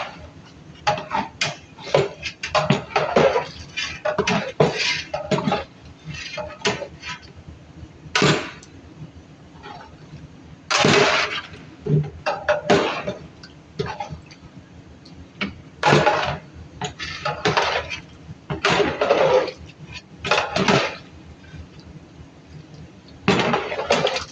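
A spoon scrapes and knocks against a pot as beef with garam masala is stirred, giving irregular bursts of clattering metal strikes, close and fairly loud, separated by brief quiet gaps.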